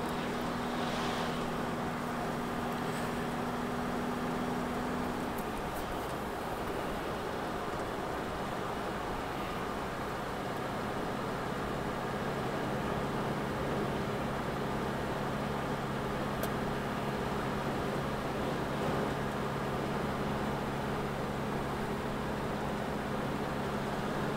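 Strong wind buffets a parked car, making a steady, loud roaring rumble with a low droning hum. It continues without a break for the whole stretch, and no one speaks.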